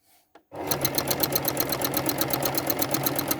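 A sewing machine runs steadily at close range, its needle chattering in a fast even rhythm as it stitches continuous curved lines across a quilt, starting abruptly after a brief quiet moment.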